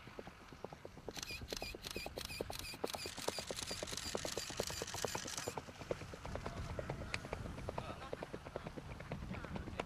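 Horse hooves clip-clop in a quick, steady rhythm throughout, mid-distance and faint, under a rapid burst of camera-like clicking early on.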